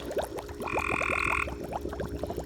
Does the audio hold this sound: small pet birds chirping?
no